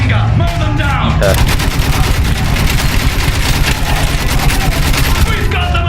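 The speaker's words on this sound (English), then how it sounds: "Machine gun! Mow them down!" Sustained World War I machine gun fire from Battlefield 1 rattles in a loud, dense stream of rapid shots mixed with other gunfire and battle noise, with brief shouting early on.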